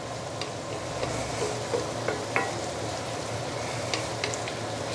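Roast pork and basil leaves stir-fried in a hot pan, a steady close sizzle with a few light clicks and scrapes of stirring, no voices.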